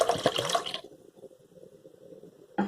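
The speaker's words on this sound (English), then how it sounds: "in a separate pan, we're just adding the vinegar in" Vinegar pours from a container into a separate pan to make a pickling brine for beetroot, with a loud splashing start that settles into a softer, steady trickle and ends with a brief clatter.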